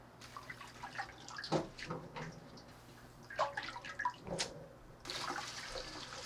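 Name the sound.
rinsing blanched chili pepper leaves in cold water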